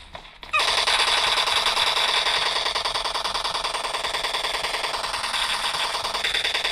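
Sustained automatic gunfire in the mobile game PUBG Mobile, a dense rapid rattle of shots that starts abruptly and keeps firing loud and steady to the end.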